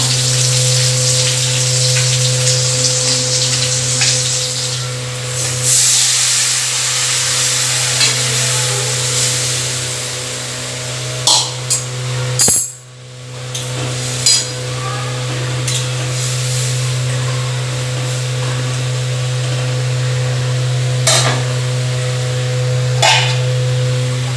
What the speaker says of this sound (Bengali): এটা ভাজবো এখন